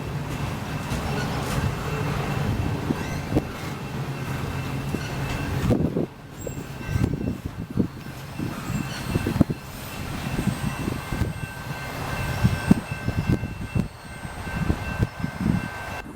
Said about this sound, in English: train coming.